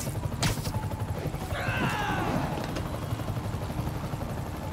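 A helicopter in the video game Marvel's Spider-Man thrums with a steady low rotor chop. Sharp bursts and a sweeping whine cut in early over it.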